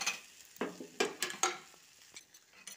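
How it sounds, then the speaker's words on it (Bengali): Vegetables dry-frying for a Bengali chhechki in a pan, with several sharp scraping stirs of a spatula against the metal over a faint, steady sizzle, close and without talk. "এভাবে ভাজা হোক, দেখো মোটামুটি ভাজা ভাজা হয়ে গেছে"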